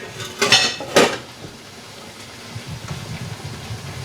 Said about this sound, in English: I'm going to very carefully put my jars into my boiling water bath canner